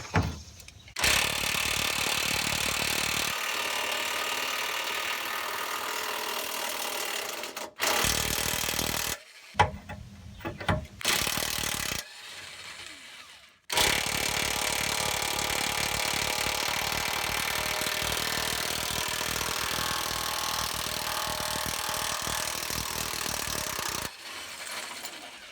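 Hand tools work on a car's power steering rack bolts in a long stretch of ratcheting and rubbing metal clicks, broken by several short silent gaps, with no talk.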